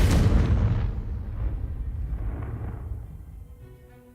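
A Confringo fire spell bursts in Hogwarts Legacy, opening with a loud, deep boom that rolls into a long rumbling decay over about four seconds.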